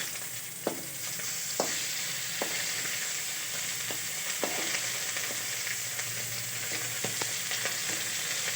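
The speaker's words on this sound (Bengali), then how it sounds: "একে একে মাছ ভাজা আমার রেডি হয়ে গেছে" Fish frying in oil in a pan, a continuous hiss with sharp pops and crackles scattered throughout, close and alone.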